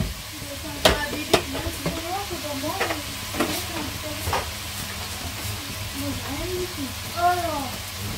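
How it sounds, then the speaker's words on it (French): Autumn spaghetti sauce is stirred in a pan with sharp utensil scrapes and clacks over a low simmering hiss, while a voice talks throughout. "Donc là, on mélange bien surtout."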